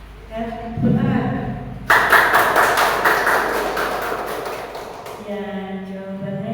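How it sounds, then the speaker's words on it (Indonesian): Hand clapping from a group in a classroom lesson, a dense burst that starts abruptly and runs for about three seconds before fading, with a voice talking before and after it. "Dan tepuk tangan."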